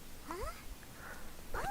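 A cat gives two short, faint meows about a second apart against a quiet indoor background.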